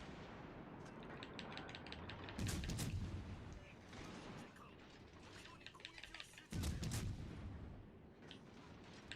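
Heavy naval gunfire in World of Warships Legends on console, with loud booming salvos at about 2.5 and 6.5 seconds over rumbling battle noise and mechanical clatter, while a voice talks through parts of it.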